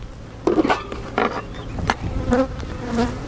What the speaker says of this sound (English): Try to smoke these bees out of my face a little bit.